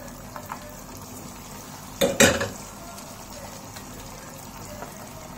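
Chicken cutlet mix drops into hot oil with a short, sharp burst of sizzling and splatter midway, then settles back to a faint, quiet hiss of frying.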